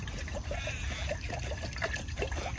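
Fresh bottled water pours and trickles at a beachside camp, a close, continuous gurgling stream with faint bubbling and background noise.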